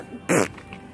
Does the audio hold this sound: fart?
yes